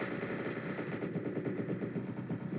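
Rapid automatic gunfire in the tactical game Entry Point rattles in a dense, continuous burst of quick shots, steady and moderately loud for the whole stretch, with no talking over it.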